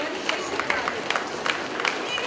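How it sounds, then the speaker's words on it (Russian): Applause and cheering from a school assembly crowd welcome first-graders and their teachers on the first day of school, a steady wash of clapping with scattered sharper claps and voices mixed in. "Под громкие аплодисменты мы приглашаем к нам первоклассников во главе со своими первыми учителями."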